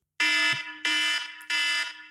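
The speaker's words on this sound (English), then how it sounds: "So this alarm allows me to passive-aggressively tell guests to shut up" Podcast timer alarm marking the end of a five-minute segment: three loud, evenly spaced electronic buzzing blasts, each about half a second long, harsh and up close.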